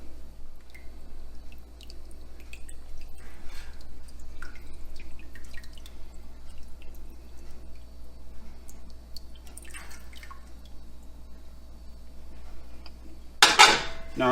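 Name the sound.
adding rennet diluted in water to goat milk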